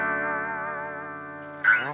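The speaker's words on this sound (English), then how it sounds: "Vox sound, wah." An electric guitar through a Vox wah effect pedal holds one sustained, gently wavering note, then a sharper, brighter new note is plucked near the end. It is close and alone, with no talk.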